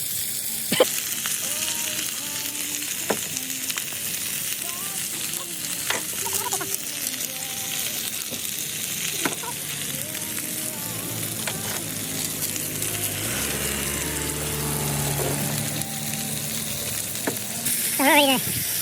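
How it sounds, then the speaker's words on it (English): Two large T-bone steaks cook in a pan, sizzling steadily up close beside scattered clinks and scraping of utensils. "So we've got two huge T-bone steaks. The Brunswick Heads T-bone steak cooked by Bec."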